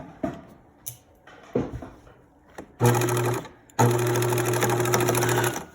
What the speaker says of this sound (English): I'm going to sew at 5/8 inch. So lower my needle.